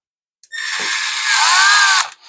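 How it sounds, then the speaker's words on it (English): A screw gun drives screws while a Poulan Pro chainsaw carburetor and fuel system is rebuilt, giving one loud, close, continuous whirring burst of about a second and a half that shifts slightly in pitch before stopping, with no speech. "if you're doing what I'm doing using a screw gun"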